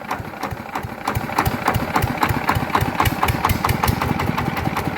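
Yanmar TF120 single-cylinder diesel engine, being upgraded to 150 for field and water-pump work, runs steadily close by with a regular mechanical knocking rhythm and continuous loud chugging.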